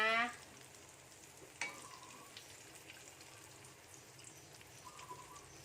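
Cha-om (acacia leaves) dipped in egg fry gently in oil over low heat, a faint, soft, steady sizzle with a few small bubbling pops and brief handling sounds.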